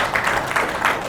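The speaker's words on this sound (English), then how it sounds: "we could possibly give them another round of applause" An audience at a launch event applauds in a short, steady wash of clapping with slight swells, no voices over it.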